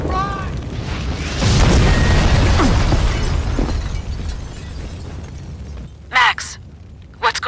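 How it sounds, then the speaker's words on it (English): A building blowing up in Max Payne 2, a loud booming blast with rumbling debris swelling early and then fading into a lower roar, followed by a couple of sharp bright bursts near the end. "The building's blowing up."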